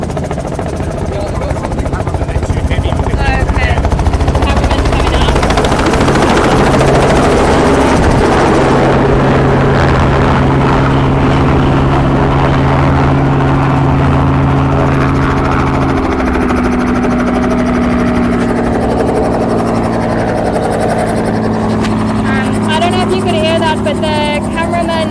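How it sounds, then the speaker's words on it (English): A helicopter flies overhead during an elephant collaring operation, its rotor and engine drone loud and constant throughout with shifting pitch, while people talk over it. "For the helicopter to be able to maneuver more effectively."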